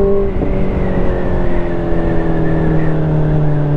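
A 2019 Honda CBR650R, a 95 hp four-cylinder motorcycle, pulls steadily under acceleration, its engine whine holding a close, loud, continuous tone throughout.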